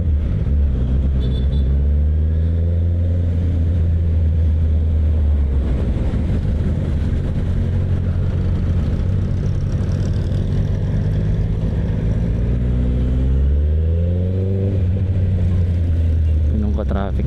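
Heavy rush-hour traffic on C5 in Metro Manila, heard from a Honda CB650R: a loud, steady low engine rumble with rising and falling revs, dense traffic noise throughout, and a voice talking over it.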